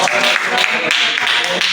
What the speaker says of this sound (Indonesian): Oke, berikan aplaus semuanya.